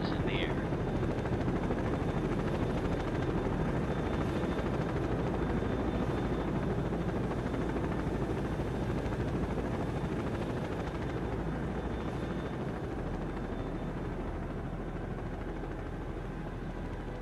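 A naval helicopter launching from a ship's deck, a loud, steady rotor and engine roar that holds throughout with little change.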